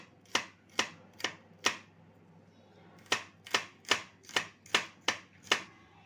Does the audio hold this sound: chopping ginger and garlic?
yes